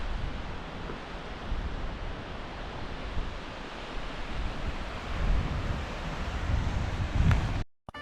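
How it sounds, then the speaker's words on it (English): Ocean surf rolls against a Northland shore in New Zealand, a broad, steady wash of waves mixed with gusting wind buffeting the microphone, continuous and moderately loud until a sudden cutoff near the end. "Look at this beautiful ocean."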